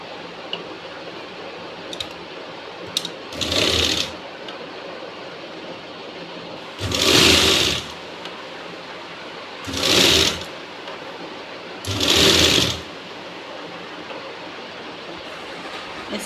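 A sewing machine stitching a choli onto a Rajputi suit runs in four short bursts of whirring, each a second or two long, separated by quiet pauses with faint clicks, heard close with no talking.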